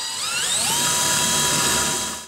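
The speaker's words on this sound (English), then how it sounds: "I needed to drill a bigger hole so that I could poke the clips all the way through" Close, loud whine of a small electric drill boring holes in a board for model railway track clips, pitch rising as it spins up, then holding steady before winding down.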